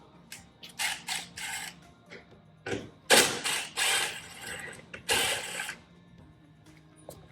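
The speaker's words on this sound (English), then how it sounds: "I just got a light duty impact gun with a set extension and a 7mm socket" A light duty impact gun fitted with an extension and a 7mm socket rattles in several short bursts of hammering, moderately close, separated by brief pauses, while installing a splitter on a 2020 GT500.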